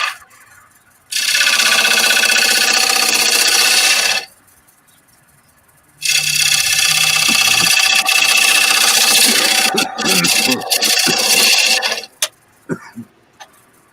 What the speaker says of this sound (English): Now take a relief cut over near the slot, so you've got room for the chisel to go down into